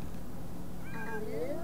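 A cat meows once in The Sims 4 while being petted at a vet clinic, a short rising call midway through over a constant low background hum.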